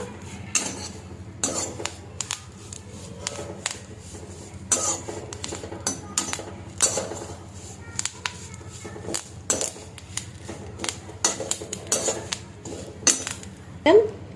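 Curry leaf chutney mixture being transferred into another pot, with metal utensils and vessels clinking and scraping in repeated irregular bursts, close and moderately loud, with faint background noise.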